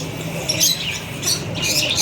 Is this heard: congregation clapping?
no